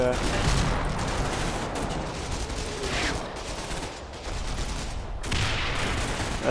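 Tank gunfire in Combat Mission: Battle for Normandy, a World War II game: dense, continuous bursts of shots and booming rounds at mid distance, overlapping rattling gunfire with a few louder blasts and no clear pauses.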